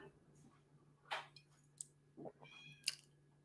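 A cat meows several times in short, uneven calls, fairly close, over a quiet room hum.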